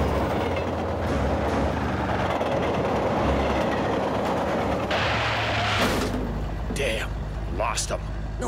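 A train rumbles past in a Blake and Mortimer cartoon with a continuous heavy roar and rattling, loud and close, with brief shouted voices near the end.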